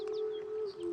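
Outdoors a bird gives a sustained tonal call with a couple of quick higher chirps at the start, fairly close and clear with no voices.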